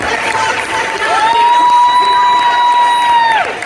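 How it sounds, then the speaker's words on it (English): Conference audience at a summit cheering and applauding, a loud crowd roar with whoops and a long sustained shout carrying over the clapping. "Can I get some applause, please?"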